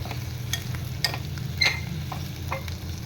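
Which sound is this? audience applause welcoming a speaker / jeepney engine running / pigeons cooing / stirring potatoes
stirring potatoes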